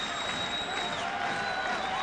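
Steady crowd roar fills a basketball arena during a timeout at the 1991 NBA Finals, a continuous distant wash of cheering and murmur with a faint tone running through it.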